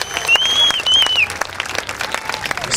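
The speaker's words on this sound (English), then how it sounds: "let's give all our current students at Thomas Jefferson a round of applause" An audience applauding students at a Texas Independence celebration, a continuous patter of many hands clapping with a few whistles on top.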